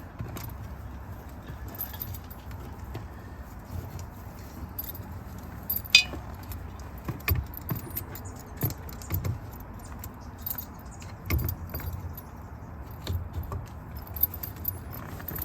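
Car keys jangle at the ignition switch of a Citroen SM, a series of light metallic clinks and rattles over a low steady background hum, close by and with no talking.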